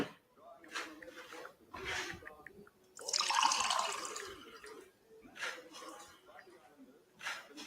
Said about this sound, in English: Do you mind if I pour your coffee into a glass?